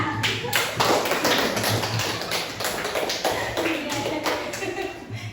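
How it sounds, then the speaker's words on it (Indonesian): A classroom audience applauds a student, a dense burst of clapping lasting several seconds under a teacher's voice in a university teacher-training class. "Tepuk tangan dulu untuk Andika."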